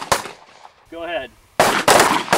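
Weapons fired during live-fire training on a shooting range: sharp broadband blasts, a few rapid bursts at the start, then quiet, a brief tonal whine, and two loud sustained volleys of close, loud gunfire at the end.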